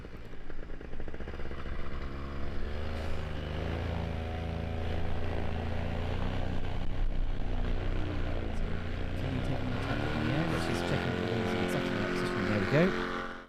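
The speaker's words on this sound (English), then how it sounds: "Squeeze the throttle and she's airborne." At a world paramotor slalom championship, a paramotor engine drones under a commentator's talk, then revs up sharply to a rising whine for takeoff near the end.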